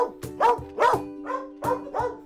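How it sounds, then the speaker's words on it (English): A dog barks five times in an uneven rhythm, each bark loud, close and clear against a quiet background. "there are times when a dog just suddenly barks at something that we cannot see"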